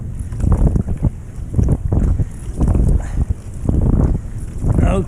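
Wind buffets steadily around a kayaker out on open water during a wing-paddle stroke session, a rough, gusting roar close on the microphone, with rhythmic low surges from the paddle strokes.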